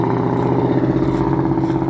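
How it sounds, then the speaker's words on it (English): Loud trucks passing by, a heavy, steady engine rumble with clattering droning close and loud throughout, no talking. "hold on, loud trucks"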